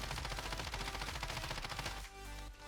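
Rapid automatic gunfire in the Modern Warfare video game, a sustained rattling burst of closely spaced shots that fills the moment, then briefly tails off before a final few rounds.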